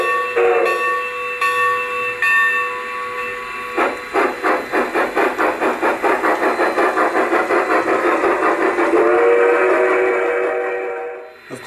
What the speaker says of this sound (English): and a couple of toots on the whistle.